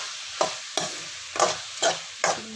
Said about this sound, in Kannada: ಈಗ ಸಿಗಡಿ ಫ್ರೈ ಆಗಲಿ